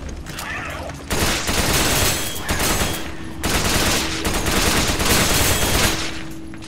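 Sustained gunfire aimed at a boss in Resident Evil 5, heard as loud continuous volleys of rapid shots in long bursts with short gaps, over a low background hum.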